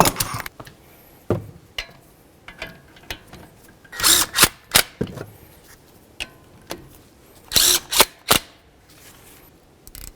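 A power tool runs down the brake caliper bolts on a 2012-2020 Nissan Pathfinder in several short, sharp bursts separated by pauses, with clicks and clanks between them, all close by.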